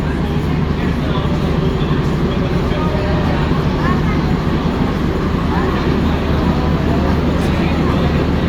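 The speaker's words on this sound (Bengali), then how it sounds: "এই হচ্ছে রেলওয়ে স্টেশন।" A passenger train rumbles at a railway station on the Ninh Binh to Hanoi line in Vietnam, giving a steady, loud low-pitched drone that runs unbroken and even throughout, with no voices standing out.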